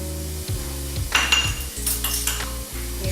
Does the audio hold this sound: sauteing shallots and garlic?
yes